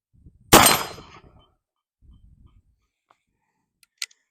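A Traditions Trapper .50 caliber black powder pistol fires a single loud, sharp shot outdoors at a distant yellow target, the blast ringing and decaying over about a second, followed by faint handling noises and a distant metallic ping.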